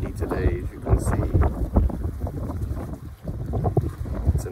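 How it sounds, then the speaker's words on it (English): Steady wind gusting and buffeting the microphone outdoors, with low rumbling and occasional voices in the background. "Windy today, as you can see."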